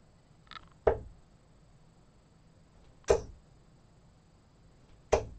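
Three sharp darts fitted with Condor Axe flights thud into a dartboard one after another, each impact a crisp close hit with a brief springy ring, spaced about two seconds apart in a quiet room.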